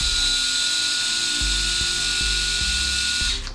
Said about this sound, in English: this sounds like some old school clippers